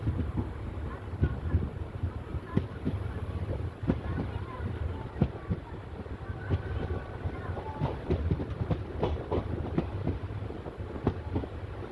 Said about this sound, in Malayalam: റെയിൽവേ സ്റ്റേഷനിൽ നിന്നും ട്രെയിൻ അങ്ങനെ എടുക്കുകയാണ്